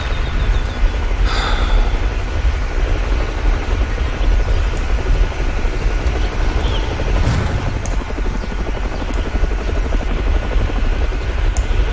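In-game helicopter from Roblox Mad City flying, a loud constant rotor roar sustained throughout, with a brief sharper burst near the start and a muffled thump partway through.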